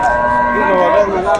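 A dairy cow at a cattle market gives a long, loud, close moo lasting the whole moment, with faint crowd murmur behind.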